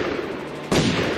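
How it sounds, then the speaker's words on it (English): A gunshot sound effect inside a song: one sudden loud bang cutting through the dense music, close and full. "Who's shooting guns?"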